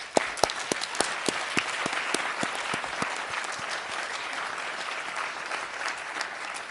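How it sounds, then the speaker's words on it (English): Seminar attendees applaud panelists and speakers, a few sharp, distinct claps leading into a steady wash of clapping that gradually thins and softens. "we should give them all an applause,"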